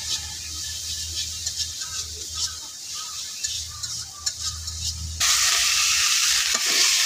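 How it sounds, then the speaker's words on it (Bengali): Spice paste with dried fish frying and being stirred in a pan: close, continuous sizzling with intermittent scrapes, then the sizzle suddenly grows louder and brighter partway through. "দেখেন মশলাটা আমি ভালো দিয়ে কষাই নিতেছি"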